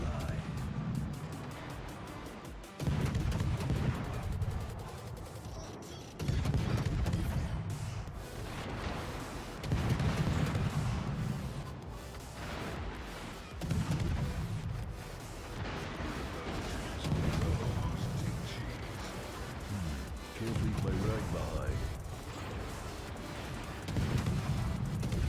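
Heavy naval guns booming in a World of Warships battle involving a Tier X French destroyer, Marceau: about seven deep, evenly spaced blasts roughly every three seconds, each rumbling out over a continuous wash of engine and sea noise, with talk running underneath.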